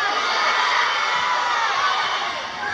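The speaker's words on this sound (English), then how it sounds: "Everybody applaud and scream at your screens in order to vote for." Comedy show audience clapping and screaming together to vote for a contestant: a loud, dense wash of cheering, shrieks and applause that holds steady and dips slightly near the end.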